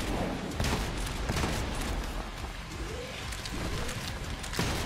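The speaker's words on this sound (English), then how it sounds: "Okay, yeah, I should just use a shotgun." Shotgun blasts in the shooter game Trepang 2 come in rapid succession as dense, crackling bursts. They stay fairly quiet and are mixed into busy combat noise.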